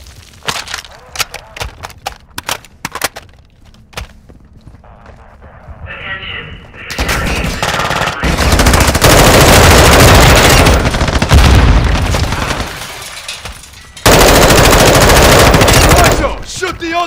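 Heavy automatic gunfire in Call of Duty: Modern Warfare II DMZ, loud sustained bursts with booming impacts and cracks, following quieter scattered shots and shouted team chatter.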